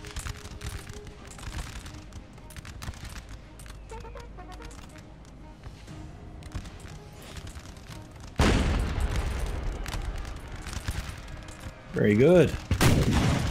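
Musket volleys and artillery booms sound from a Napoleon Total War battle, scattered pops and cracks that build into loud, dense bursts of fire near the end, with brief talking mixed in.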